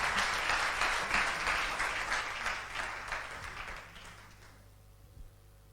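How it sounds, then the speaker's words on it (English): Audience applause at a high school debate between Opoku Ware and Bompata students, a broad wash of clapping from a hall crowd that fades to quiet near the end. "a round of applause for him"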